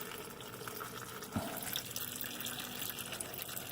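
Transmission fluid draining from the pan of a 1973 Mustang in a driveway, a steady faint trickling pour with one small splash or knock partway through, close and continuous.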